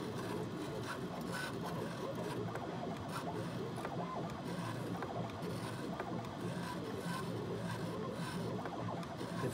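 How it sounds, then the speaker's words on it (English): A Gravograph IS400 engraver drags a 120-degree diamond tip across a 3x1-inch anodized aluminum plaque, making a continuous close scratchy rasp with light mechanical whirring and faint clicks. "That is diamond dragging with 120 degree diamond tip, made here in the United States."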